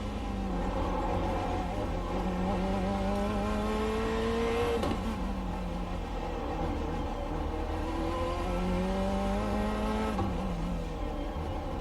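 A Corvette C8.R GTE race car in the iRacing sim roars up through the gears, its engine pitch climbing, dropping at each shift and climbing again, loud and continuous at close range.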